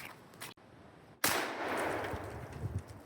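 A Hatsan Escort BTS12 bullpup shotgun fires outdoors, one loud sharp blast after a brief silence, followed by a sustained echoing roar.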